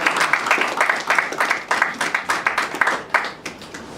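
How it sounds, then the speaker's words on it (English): An audience at a Ghanaian comedy film event for "Amakye & Dede" claps in a steady, scattered burst of many hands, fairly close and lively, with no talking over it. "I think you should clap for us for doing that"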